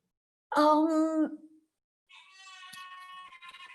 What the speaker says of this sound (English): My noisy cat has come